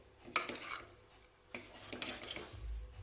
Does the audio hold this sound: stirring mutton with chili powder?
yes